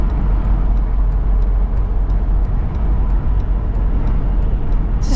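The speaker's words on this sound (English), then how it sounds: "at higher speeds you do get, you can hear the wind" Wind noise inside a Mercedes G-Wagon at higher speed, a loud, steady low rumble and rush of air filling the cabin without a break.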